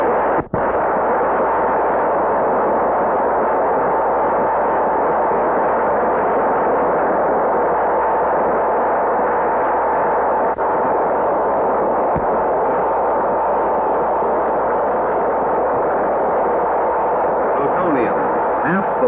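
An atom bomb test blast in vintage nuclear test film gives a continuous loud, dense roaring rumble that holds steady throughout, with a faint crackle near the end.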